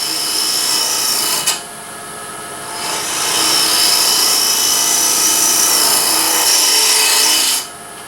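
A spindle gouge cutting into the 1-inch-thick wooden lid of a small lidded ring box spinning on a lathe, giving a loud, steady rasping hiss that swells as the tool bites, then stops abruptly near the end.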